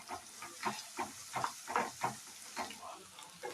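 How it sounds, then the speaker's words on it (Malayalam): Spice masala paste is stirred in a pan, making rhythmic scraping and soft sizzling strokes about twice a second, close and steady with no talking. "നല്ലപോലെ പച്ചമണം മാറുന്നത് വരെ നമുക്ക് നല്ലപോലെ ഇളക്കി യോജിപ്പിക്കാം"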